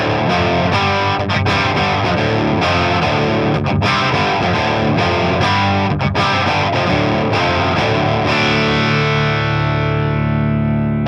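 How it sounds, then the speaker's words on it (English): A distorted electric guitar runs through five bypassed effect pedals into an amp, playing a chugging chord riff that ends on a ringing, fading chord; loud and solo with no speech. "what it sounds like when the guitar signal is going through the 5 pedals, but none of them are engaged"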